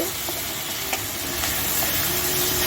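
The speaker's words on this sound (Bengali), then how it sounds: "দু চামচ পেঁয়াজ বাটা দিয়ে ভালো করে নাড়তে হবে" Onion paste stirred in a hot pan for a spicy katla fish kalia with mustard paste, giving a loud, continuous close sizzle with a few soft stirring strokes and no voices.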